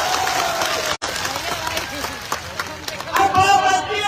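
Crowd at an outdoor farmers' rally in Alwar, India, claps and cheers amid loud hubbub and chatter, a dense burst of hands over an amplified voice addressing the gathering.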